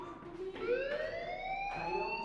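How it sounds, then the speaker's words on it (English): A school fire alarm in the video game Life Is Strange wails with a rising siren-like tone that sweeps upward continuously, moderately loud, over faint background noise with no talk. "Hey, do you hear that fire alarm?"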